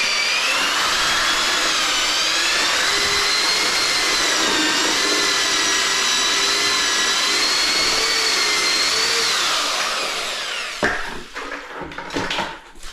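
An electric mixer churns drywall mud with a loud, steady whirring drone and a slightly wavering pitch, running for about ten seconds before it winds down into a few scraping knocks.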